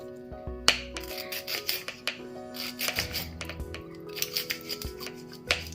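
Scissors snip repeatedly through thawing frozen lemongrass stalks, crisp cutting clicks coming in irregular bursts, close up.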